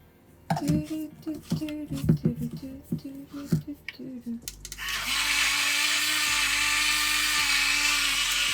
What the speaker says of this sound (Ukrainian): Наш блендер з Аліекспресу